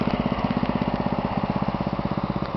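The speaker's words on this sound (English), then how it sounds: "There's my little Wheelhorse garden tractor." A small Wheelhorse garden tractor engine running at a steady idle, a close, even, rapid chugging pulse with no talk.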